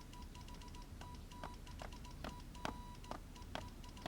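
A telegraph apparatus receives an incoming telegram at a wartime Sichuan army headquarters, with a steady 1 kHz signal tone broken into short beeps over a sharp irregular ticking of keys, mechanical and fairly close, no voices.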